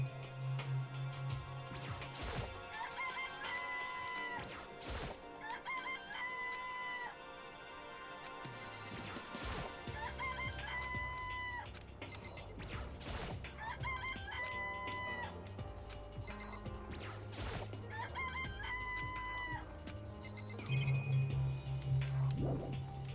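Game-audio rooster crowing from Danganronpa, several repeated cock-a-doodle-doo calls over a busy music and effects background, moderately loud with no talk.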